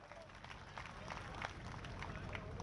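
Crowd at a public meeting in Jhunjhunu, Rajasthan applauding to welcome a guest, a steady wash of many hands clapping at a distance, fairly quiet and continuous.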